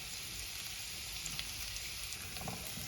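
Onion frying in hot oil for a poached-egg breakfast, giving a steady, even hiss of sizzling with faint crackles and no voices, heard close up.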